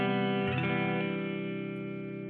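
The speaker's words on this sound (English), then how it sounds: "I use Melda's Reverb that they have built in" A sustained distorted guitar chord rings out with lush reverb from Melda's built-in reverb plug-in and a chorus-like shimmer, slowly fading as it decays.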